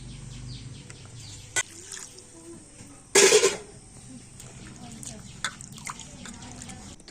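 Jackfruit seeds are washed by hand in a bowl of water, with soft sloshing and dripping, a few light taps and one louder splashing burst midway.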